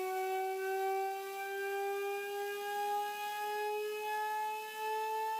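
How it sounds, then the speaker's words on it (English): A Cagniard de la Tour siren sounds a steady, pure whining tone rich in evenly stacked overtones, its pitch rising slowly and wavering slightly in loudness, alone and without any voices. "Here's an example of what Cagnier de la Tour siren sounded like."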